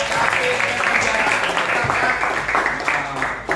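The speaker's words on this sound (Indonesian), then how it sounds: "Beri aplaus dulu dong buat mereka berdua nih" Applause for two students in a classroom, a steady wash of clapping from a group that holds throughout, with a voice speaking over it.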